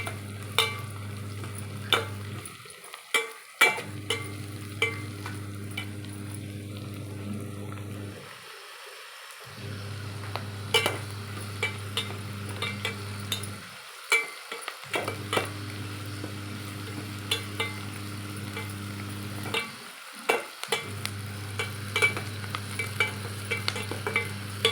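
Washed curry leaves fry in a pan for mutton curry, a crackling sizzle with scattered sharp pops and stirring scrapes over a steady low hum that cuts out briefly several times, no speech.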